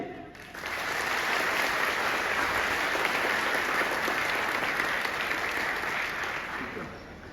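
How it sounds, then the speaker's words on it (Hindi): An audience at an NSS day gathering breaks into loud, sustained applause, many hands clapping together in a thick wash that swells quickly and holds for several seconds before easing. "एक बार जोरदार ताली बजा दीजिए अपने लिए।"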